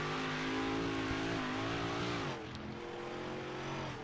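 Big block modified race car circling the dirt track at Eldora during winter nationals, engine screaming loudly with rising and falling revs as it laps, a steady high-pitched roar without voices.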